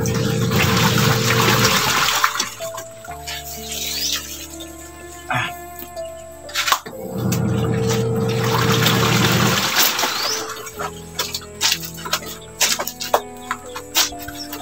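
A washing machine runs with water rushing in loud, gushing bursts, alternating with quieter stretches of trickling and clunking, close by.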